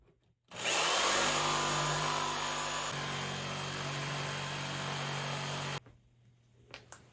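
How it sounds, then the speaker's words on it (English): A power tool cuts through ash lumber for a canoe bow stem repair, a loud, steady whine that starts abruptly, drops slightly in pitch partway through, and stops cleanly after about five seconds. "Now I'm going to cut this out of the ash lumber"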